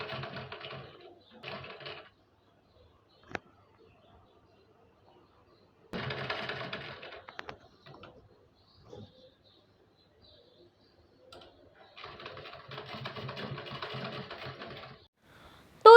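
A sewing machine stitches a fabric strip over an existing seam while making a hook placket, running in three bursts of steady whirring with quiet pauses between them, fairly near and with no talk over it.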